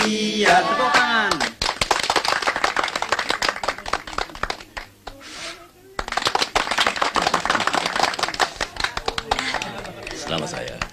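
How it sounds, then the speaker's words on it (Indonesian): A small group claps in quick, dense applause right after singing the Indonesian birthday song "Panjang Umurnya". The clapping starts loud and sustained, briefly thins midway, then surges again, with voices chattering underneath. "Tepuk tangan."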